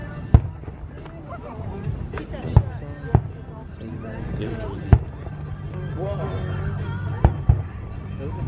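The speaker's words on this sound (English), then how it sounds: "Fireworks." Fireworks burst over Indian Lake, heard from across the water as about seven sharp, distant booms spread irregularly, with people talking between them.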